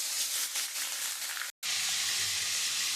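Bhola fish frying in hot oil, a loud, steady sizzle and hiss close by, broken by a brief cut of silence midway before the frying continues.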